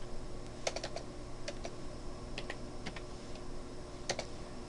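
Typing on a computer keyboard while text is entered into a graphics editing program, with clusters of quick, light key clicks in short irregular bursts, close and fairly quiet, with no voices.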